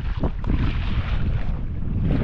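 Strong wind buffets the microphone in loud, rumbling gusts over open sea water near Anapa, heard while paddleboarding, with a constant roaring rush.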